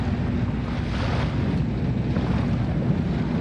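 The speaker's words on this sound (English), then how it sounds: "So can you hear the waves? The lapping of the waves?" Waves wash and lap in a constant rush outdoors, heavily mixed with strong wind buffeting the microphone, loud and unbroken with no voices.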